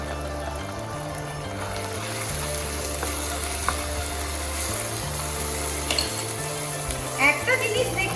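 Cubes of chicken frying with onions in a pan for nasi goreng, a steady continuous sizzle at moderate level with faint stirring scrapes, under a low background hum.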